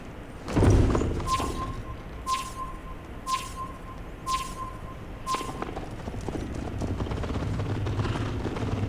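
Horse hooves clip-clop in Assassin's Creed Valhalla, a steady run of hoofbeats under regular, repeating game tones and low background ambience.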